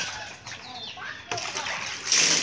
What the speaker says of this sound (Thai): แล้วใช้น้ำล้างนะครับธรรมดา